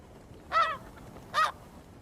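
Two short, nasal snow goose honks sound in quick succession, clear against a quiet background.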